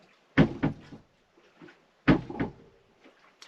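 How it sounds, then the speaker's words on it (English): Two heavy hollow thumps, each followed by a quick rebound knock, as a mooring ball slams against a moored sailboat's hull overnight at anchor, close and loud with quiet gaps between. "that's what we heard throughout the entire night, is the mooring ball slamming against the hull"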